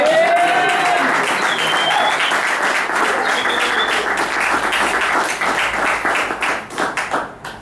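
A church congregation at an evangelistic service bursts into loud, sustained applause and clapping, with voices calling out over it, before thinning to scattered claps at the end.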